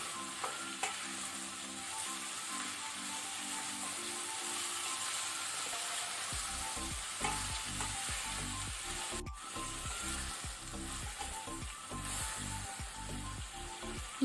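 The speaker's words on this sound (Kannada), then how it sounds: "ಈಗ ನಾವು ಪಡವಲಕಾಯನ್ನು ಒಗ್ಗರಣೆಯಲ್ಲಿ 1 to 2 ಮಿನಿಟ್ಸ್ ಈ ರೀತಿ ಮೀಡಿಯಂ ಫ್ಲೇಮಲ್ಲಿ ನಾವು ಫ್ರೈ ಮಾಡ್ಕೊಳ್ಳುವ" Snake gourd fries in a spiced tempering over a medium flame. A soft, continuous sizzle is joined after a few seconds by rhythmic scraping strokes as it is stirred in the pan.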